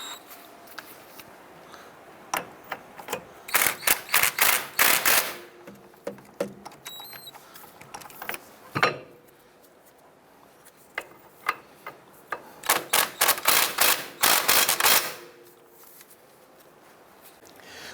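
A ratchet works on bolts of a 2005-2007 Jeep Liberty's lower suspension during a ball joint replacement, with close, rapid clicking bursts separated by pauses and occasional metallic knocks.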